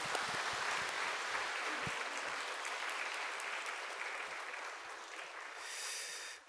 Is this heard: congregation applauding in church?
yes